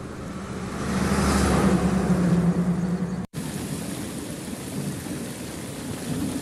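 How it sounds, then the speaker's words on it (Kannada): Heavy rain with thunder in Hospet, Vijayanagara district, as floodwater enters houses: a loud, rolling roar of downpour and thunder swells, then cuts out abruptly and resumes as steady, dense rainfall. "ಭಾರೀ ಪ್ರಮಾಣದ ಮಳೆಯಿಂದಾಗಿ ಮನೆಯೊಳಗೆ ನುಗ್ಗಿದ ನೀರು"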